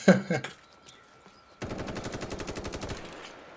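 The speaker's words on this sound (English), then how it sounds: "Who's that guy shooting?" Rapid automatic gunfire from The Day Before video game, a sharp opening burst followed by a sustained rhythmic volley of about a dozen evenly spaced shots, loud and close.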